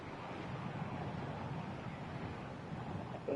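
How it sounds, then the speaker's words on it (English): Heavy wind blowing in the racing video game Super Woden GP 2, a steady broadband rushing roar that holds at an even level throughout with no talk. "So I have some heavy winds."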